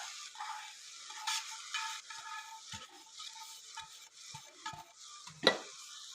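A spoon stirring roasted semolina into milk in a pan, with soft scraping strokes and occasional clinks against the metal, one sharper knock near the end.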